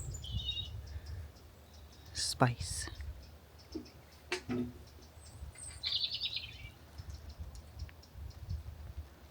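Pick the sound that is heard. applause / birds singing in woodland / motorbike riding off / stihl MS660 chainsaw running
birds singing in woodland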